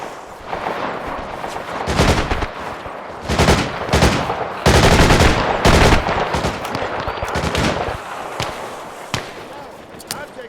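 Heavy gunfire in ARMA Reforger during an AI-versus-AI airport assault: loud, near bursts of automatic fire and single shots crowd together in several dense clusters, with a voice speaking over the shooting.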